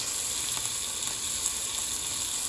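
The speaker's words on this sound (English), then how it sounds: "So I think I'm gonna start searing the chicken." Steady, close sizzling of chicken searing in a hot pan, a continuous bright hiss that holds evenly throughout.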